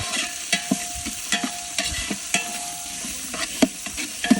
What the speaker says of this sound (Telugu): ఒక భగవాన్ తీసుకొని దాంట్లో ఆనియన్స్ పచ్చిమిర్చి వేసి మంచిగా ఆయిల్ వేసి ఫ్రై చేసాం